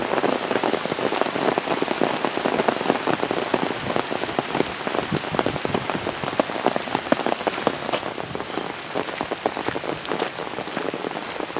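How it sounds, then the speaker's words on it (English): Steady rain falling outdoors on a humid suburban walk, a dense close patter of drops hitting wet ground and surfaces, continuous and fairly loud with no voices. "As soon as I get out of the car, here comes the rain."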